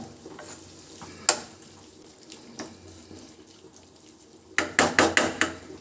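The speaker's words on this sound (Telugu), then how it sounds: "ఇప్పుడు ఇదంతా ఒక 3 నిమిషాల పాటు బాగా ఫ్రై చేసుకోవాలండి. టమాటాలు అంతా మగ్గాలి బాగా." Tomato masala for egg curry frying and being stirred in a pan, with a low sizzle, scattered scraping clicks and a loud burst of spoon strokes near the end; no talking.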